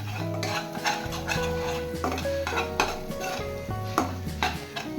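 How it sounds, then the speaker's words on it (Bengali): A spoon scrapes and clinks against a pan while gram flour and spices are stirred together over a gas flame for paneer bhurji. The stirring is close and steady with repeated metallic taps, and nobody speaks. "এবার গ্যাসের ফ্লেমটা অন করে সব মশলা একসাথে মিশিয়ে নেব।"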